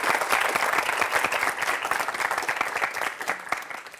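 Audience applause at a live talk, a dense even patter of many hands clapping throughout, fairly close and steady with no speech over it.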